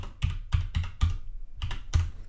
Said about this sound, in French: Deuxième étape, je tape le texte qui convient.